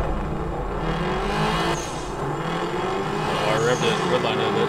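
A race car engine in the Night Runners Prologue racing game revs hard toward the redline, its droning tone climbing and wavering at close range while people talk over it.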